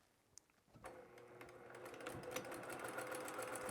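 A sewing machine runs steadily, basting a fabric bear paw onto a slate-coloured plush bear body over the seam, starting after a short pause and building to a continuous close whir.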